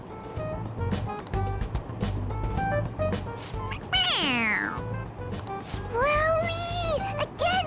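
A toy cat in the Persona 5 Royal video game meows when pressed on the head, giving two clear, sliding meows, one near the middle and one near the end. They sit over steady game background music.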